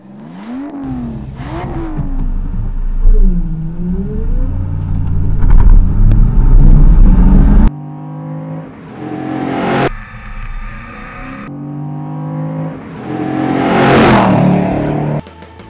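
An Aston Martin GT4 race car laps a track, its engine revving up and down through the gears with sharp shifts, loud and close from on board, with rising and falling pitch sweeps.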